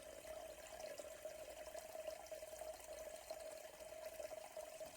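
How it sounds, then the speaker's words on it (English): A steady, faint hiss of water from a LUXE Bidet NEO 185 spraying directly down into a toilet bowl, continuous throughout with no voices. "I'm going to demonstrate the water pressure, spraying it directly down into the toilet."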